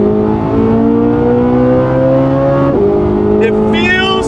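A Corvette C8 Z06 engine pulls hard on a race track, a loud steady rising drone that drops briefly as it shifts and then climbs again, with a faint squeal near the end.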